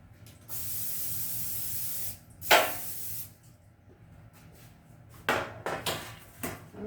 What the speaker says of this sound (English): So I've sprayed some canola oil into my pan.